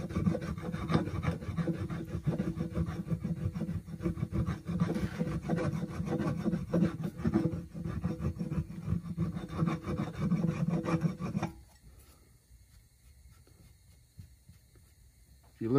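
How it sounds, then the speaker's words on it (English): A hand scraper rasps back and forth over a freshly buffed patch inside a tire during a flat repair, a loud, close, continuous gritty scraping that stops near the end, leaving quiet. "Take your scraper. Scrape the area that you just buffed out."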